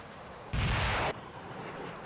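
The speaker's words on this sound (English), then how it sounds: "The Raptor launches an AMRAAM." An F-22 Raptor fires an AMRAAM missile in a naval war video game, a single loud, roaring whoosh-blast lasting about half a second before falling back to a low background hum.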